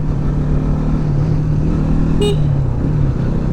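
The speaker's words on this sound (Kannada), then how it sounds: "ಇವೆಲ್ಲ ಕಾರ್ಗಳು ಅಲ್ಲೇ ಹೋಗಿ ಬರ್ತಾ ಇರೋದು ಅನ್ಸುತ್ತೆ" Cars pass by steadily on a road near a temple on a busy holiday, a continuous close engine hum and tyre rumble with one brief horn toot partway through.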